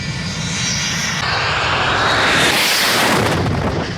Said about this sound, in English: Did you see that super low pass?